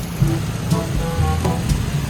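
Dense steady hiss of heavy rain falling on a village in Gujarat, with scattered sharper drips and patters on surfaces, continuous and fairly loud.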